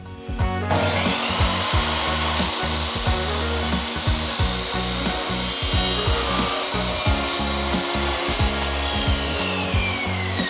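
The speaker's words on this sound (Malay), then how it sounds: "Senang lagi circular saw." A circular saw cuts through a Tasblock interlocking building block, producing a loud, rough grinding whir with rapid repeated rasping strokes and a high ringing tone throughout, with no talk.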